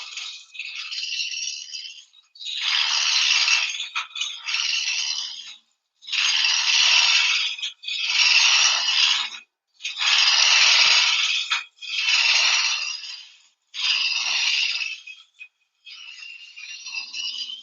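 Wood turning on a lathe, a gouge roughing down a spinning workpiece with the tool held perpendicular to the spindle: loud, close, rattling scrape in long bursts separated by short gaps.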